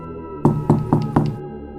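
Four quick knocks on a room door in a dark boarding-house corridor, close and fairly loud in an even rhythm over a low, steady musical drone.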